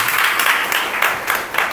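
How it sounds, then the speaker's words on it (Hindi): A church congregation gathered for a Hindi worship service claps together in a brief, loud burst of steady, rhythmic hand clapping. "ताली बजाकर हम परमेश्वर को धन्यवाद।"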